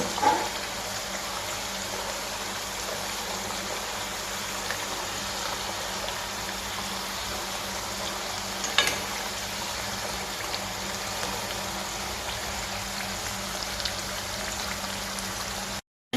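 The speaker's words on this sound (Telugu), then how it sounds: "ఇలా కొంచెం కలుపుతూ ఉంటే గొవ్వలన్నీ కూడా ఒకవైపు రెండో వైపు కాలుతూ ఉంటాయండి" Wheat flour gavvalu (shell-shaped snacks) fry in hot oil while being stirred, giving a continuous, even bubbling hiss. One louder clink or splash stands out briefly near the middle, and there is no speech.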